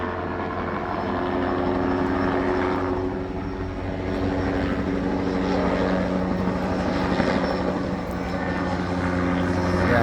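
A helicopter flies off toward a nearby airport, its steady rotor and engine drone holding loud and continuous throughout, with a broad rumbling hum and no pauses.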